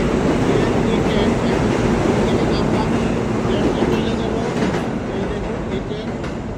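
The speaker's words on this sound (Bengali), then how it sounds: "ম্যানহাটন আজকে আমরা জ্যাকসনে আসছি ট্রেনে" A moving train running from Manhattan, New York gives off a steady, dense rumble and rattle throughout, with a person talking over the ride.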